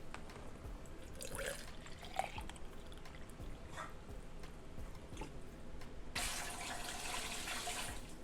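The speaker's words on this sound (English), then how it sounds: "I'm going to place 4 cups of water in my canner." Four cups of water poured into a pressure canner for canning bone broth, a faint trickle with small splashes that swells into a steadier, brighter pour near the end.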